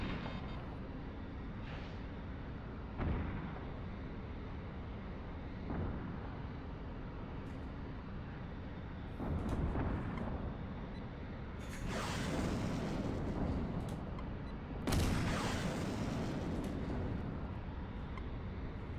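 An IR missile is fired and explodes in a flight simulator combat game, heard as a low, steady engine rumble broken by muffled thumps and a couple of louder, rushing booms near the end.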